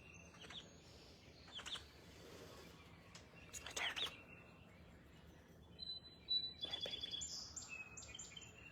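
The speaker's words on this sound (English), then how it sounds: "Chirp, chirp." Several birds chirp and tweet outdoors on a porch in short, scattered bursts of call notes, fairly faint against a quiet background, with no talking.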